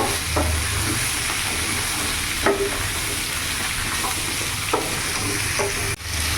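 Mixed vegetables frying in a pan, a continuous close sizzle with periodic scraping and knocking as they are stirred and turned, fairly loud and steady, no voices.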